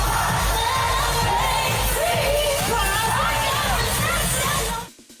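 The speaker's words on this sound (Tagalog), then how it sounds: "She also posted another clip of the crowd jumping along to the song." A large crowd at an outdoor political rally in Pasig jumps and sings along to a song, a loud, dense wash of voices and cheering over music that holds steady before cutting off abruptly near the end.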